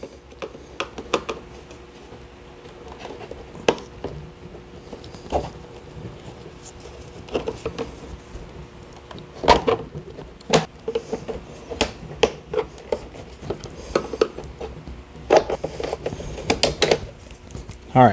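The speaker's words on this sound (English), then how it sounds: "we're gonna go ahead and use a screwdriver to back these out" A screwdriver backs out screws from the back plate of a car instrument cluster, producing sparse small clicks, ticks and scrapes close by. Between the sounds there are quiet pauses, and no one talks.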